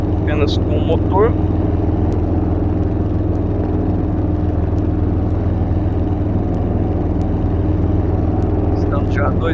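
Rutan LongEZ light aircraft engine droning in a VR flight simulator game, a loud, steady, even hum held throughout, with brief bits of a man's speech near the start and end.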